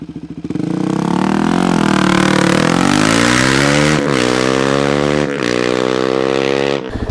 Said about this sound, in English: That's probably the nastiest sounding exhaust I've ever heard in my life on a DRZ